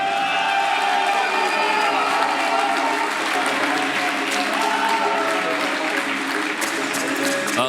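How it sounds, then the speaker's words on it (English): A large arena crowd applauds and cheers steadily for an amateur MMA fighter's entrance, a dense, continuous roar of clapping that holds at a loud level from start to finish. "Listen to the round of applause here for SEVER"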